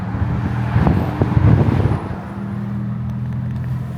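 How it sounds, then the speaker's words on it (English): Road traffic rumbles past at a busy spot, with a louder vehicle swelling by in the first couple of seconds before settling into a steady, moderately distant drone. "why is there always freaking traffic right there"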